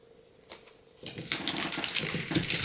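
Thin card stock passed through a die-cutting machine, the die set just above the fold: a quiet tap or two, then from about one second a steady rasping, crunching mechanical roll that continues loudly to the end.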